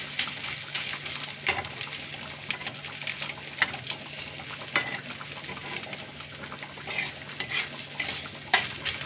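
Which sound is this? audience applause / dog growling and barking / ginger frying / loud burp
ginger frying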